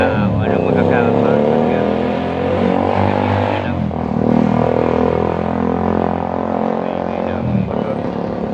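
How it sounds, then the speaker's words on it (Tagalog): A motorcycle rides past in a park, a steady engine drone that swells and fades over several seconds beneath continuous loud background noise. "may dumaan na motor"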